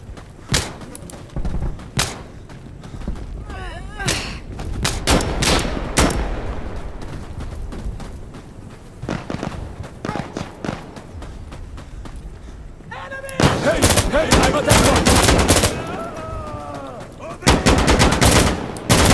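Heavy gunfire and booming fire-support strikes in the co-op shooter Insurgency Sandstorm on a refinery map, loud bursts of rifle and machine-gun fire with thudding impacts and voices shouting between shots.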